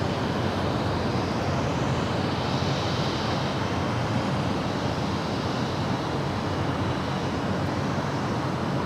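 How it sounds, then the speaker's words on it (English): A Boeing 787-10 Dreamliner taxis to the gates at Terminal 7 of Los Angeles International Airport, heard as a steady, broad jet engine roar that holds at even loudness throughout with no talk. "Apparently they're just bringing in that 787-10 Dreamliner to the gates there at Terminal 7."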